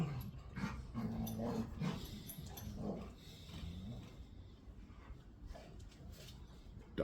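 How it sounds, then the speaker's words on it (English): Dogs yip, bark and whimper off in the distance, faint and intermittent, with a voice murmuring in the background. "Dogs are having a good time over there"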